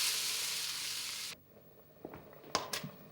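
Diced turnip, onion, potato and carrot fry gently in sunflower oil with a steady, close sizzle that cuts off abruptly, followed by a few light clatters and taps.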